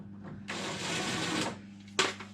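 A screw is driven into the door hinge of a Beko fridge-freezer as the door is reversed: a steady, fairly loud whirring burst of about a second, then a short sharp second burst, over a low constant hum.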